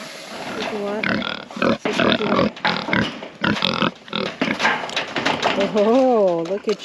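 A pig on a small homestead grunts and snuffles up close in a continuous, busy stream of low rumbling calls, while a person talks over it.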